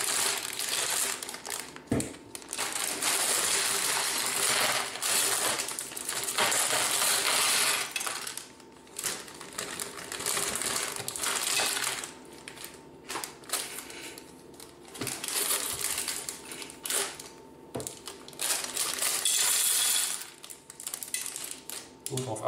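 Small plastic Lego Speed Champions pieces for an Aston Martin Vantage GT3 set rattle and clatter as they are shaken out of plastic bags into a bowl, with crinkling bag sounds in bursts, close up and fairly loud.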